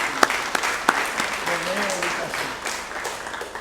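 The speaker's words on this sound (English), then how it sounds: "Let's give a round of applause for Nathan Dean." A crowd at an athletics hall of fame ceremony claps for an honoree, a moderate round of applause with a few sharp claps standing out near the start and a voice speaking over it.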